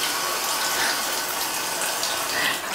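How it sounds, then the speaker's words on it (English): A small fountain water feature built into a bathroom sink in a stone cabin in the Spanish mountains runs steadily, a close, even hiss of flowing water that holds without a break. "fountain water feature"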